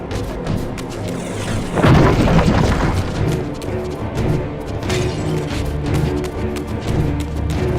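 A Fire Reaver blast goes off in Legacy of Kain: Defiance, a loud booming burst that swells suddenly and then rumbles on under dense game sound effects and music.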